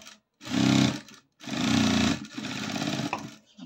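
A sewing machine stitches a 1/4 inch seam on a blouse, running in three close, steady motor bursts with short pauses between, loud and alone with no talk.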